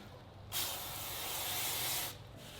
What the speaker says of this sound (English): I'm just going to spray some cleaner on there and get the extra dust off these brake shoes